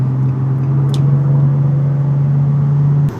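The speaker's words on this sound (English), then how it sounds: "Engine and transmission sounds pretty healthy to me." A tuned Nissan 350Z engine idles steadily close by, a loud continuous low hum and rumble that holds level throughout with no revving, then cuts off abruptly at the end.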